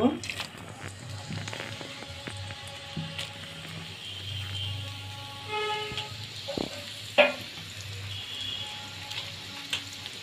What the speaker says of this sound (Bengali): আমি পেঁয়াজটা লবণ দিয়ে এই কারণে ভেজে নেব